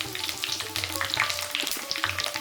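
Chopped green chillies frying in hot oil crackle and pop densely and steadily, up close, with bright spitting bursts over a continuous sizzle and no voices.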